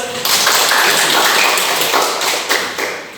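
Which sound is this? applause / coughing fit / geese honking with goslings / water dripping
applause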